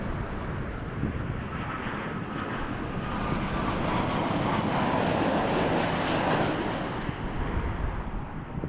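An airliner takes off from runway 23 at Toronto Pearson Airport, its engines a broad steady roar that swells and holds, heard from a distance with some wind buffeting.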